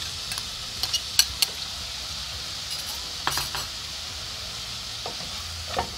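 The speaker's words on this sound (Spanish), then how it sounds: "Dejamos cocinar nuestra cebolla. También le agregamos acá nuestro pimiento o morrón." Chopped onion and bell pepper frying in a pan for a pizza sauce, a soft steady sizzle with a few light clinks and scrapes of a utensil stirring, close by and without talk.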